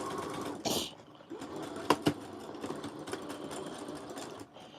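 A sewing machine stitches a diamond-shaped dart in dress fabric, its steady mechanical whir running close and continuous, with a couple of sharper clicks partway through and a brief rustle near the start.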